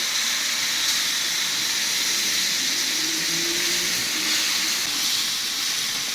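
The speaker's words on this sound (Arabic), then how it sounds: "كوباية المية مغلية اهي." Boiling water poured from a cup into a hot pan of toasted couscous, giving a loud, continuous sizzling hiss that fills the whole stretch without a break.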